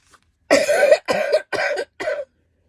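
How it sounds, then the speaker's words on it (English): Four harsh coughs in quick succession, close and fairly loud, with short pauses between them and silence after. "I'm still coughing"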